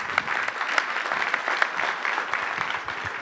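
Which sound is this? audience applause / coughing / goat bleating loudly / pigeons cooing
audience applause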